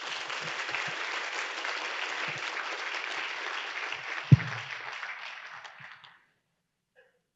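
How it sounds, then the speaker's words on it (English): A crowd applauds steadily in a wide room at an induction ceremony, the clapping holding even for several seconds before tapering off into silence. "Let's give one more round of applause to everybody."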